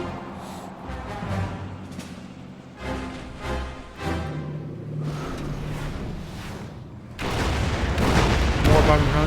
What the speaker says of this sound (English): More bombing runs.